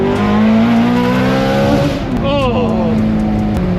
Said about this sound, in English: this is what a V8 Ferrari is to me